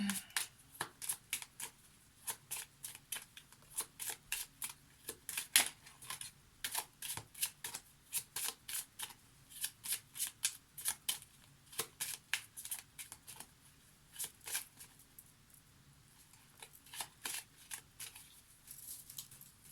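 A deck of Lenormand cards is shuffled by hand in quiet, with soft papery riffles and taps in uneven bursts and brief pauses, close and faint.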